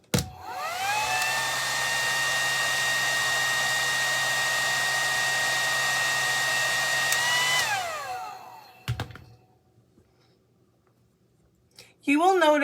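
A hair dryer runs steadily for about eight seconds to dry freshly applied magnetic lash liner, its loud whirring hum and whine holding constant before switching off and spinning down, followed by near silence and a brief voice at the end.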